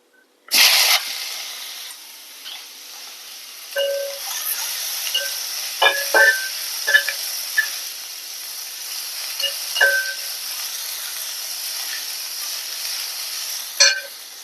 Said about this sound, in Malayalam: നമുക്ക് സവാള കറിവേപ്പില ഇട്ട് കൊടുക്കുക.